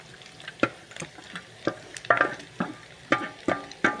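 Onion added to hot oil with chorizo sizzling and frying in a pan, with repeated stirring scrapes and clatters punctuating a steady crackle, close and moderately loud, no talk.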